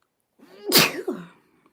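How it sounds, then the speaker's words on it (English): A single sharp human sneeze, close and loud, with a short intake before the explosive burst and a brief tail, in a quiet room. "oh, I'm sneezing, Jesus."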